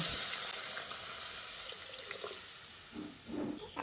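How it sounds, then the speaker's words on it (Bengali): Water poured into a pan of cooking masoor lentil dal after tomatoes have cooked down, a soft continuous splashing and hiss with a brief sizzle near the end, no talking. "ঠিক এই পর্যায়ে আমি এর মধ্যে পরিমাণ মতো জল দিয়ে দিচ্ছি।"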